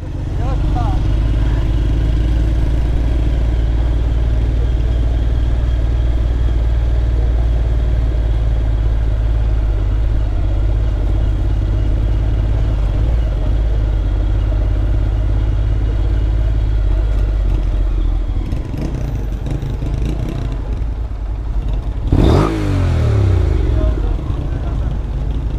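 A Benelli 25 motorcycle engine idles with a steady low drone for a long stretch, then gives one sharp rev near the end that climbs quickly and falls back.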